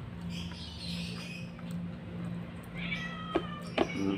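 A cat meows a few times, fairly close, over a steady low hum at a breakfast meal, with some faint background voices.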